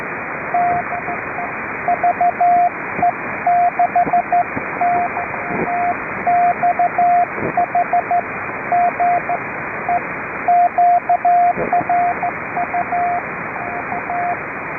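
CW Morse code over a shortwave amateur radio net near 3729 kHz, a clear steady tone keying dots and dashes in irregular bursts above a constant hiss of band noise, with no voices.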